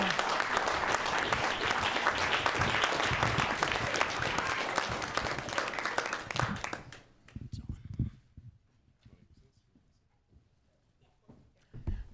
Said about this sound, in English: Please, let's give them one more great big round of applause for all they do